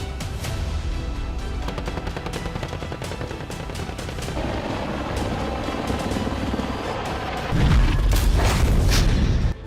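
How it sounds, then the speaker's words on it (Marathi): An AH-64E attack helicopter's rotor thumps under bursts of rapid gunfire and booming blasts, dense and loud throughout, growing heavier toward the end. "A H sixty four E helicopter"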